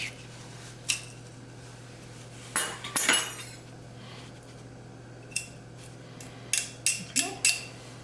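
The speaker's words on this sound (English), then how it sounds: "1 clove of garlic I'm just going to mash" A garlic clove is mashed with cutlery for roasted garlic and tomato bruschetta, giving scattered close scraping and clinking taps against a dish, some in quick clusters, with a faint hum behind.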